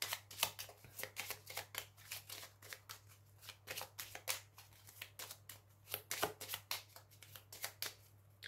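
Tarot cards being shuffled by hand, a steady run of quick riffling snaps close up with no voice over them.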